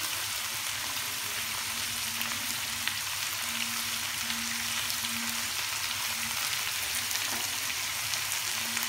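Aloe vera and mango pickle with turmeric and chili powder frying in oil, giving a steady, close, even sizzle throughout with faint stirring underneath and no voices.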